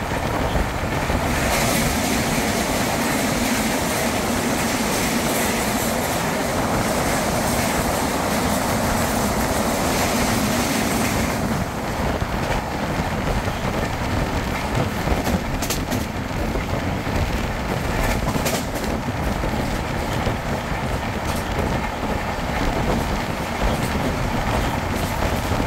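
The 12450 Goa Sampark Kranti Express rolls on in foggy winter weather, its steady loud rumble and rattle continuous from inside the moving train, with a shift in tone partway through.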